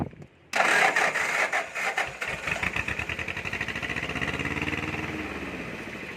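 A farm tractor engine cranks and catches, then runs with a loud, close, chugging rhythm that settles into a steady throttled-up drone.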